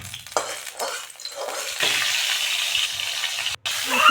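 Potatoes and bitter gourd fry in a pan with a steady, close sizzle, broken by brief stirring scrapes and a short pause near the end.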